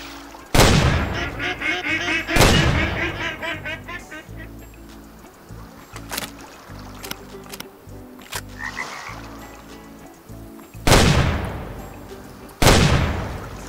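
Ducks quack in a Way of the Hunter game scene, repeated nasal calls scattered through the clip, interrupted by several loud sharp gunshot blasts with a few faint murmurs of a voice.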